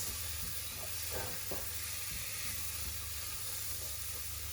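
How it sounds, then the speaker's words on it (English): Vegetables and mushrooms with tomato sweat in a pan for savoury rice, giving a steady, moderately quiet sizzle and hiss with a few soft stirring scrapes and no voices. "So this is called sweating, what we're doing now."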